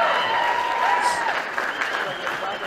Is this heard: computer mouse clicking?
no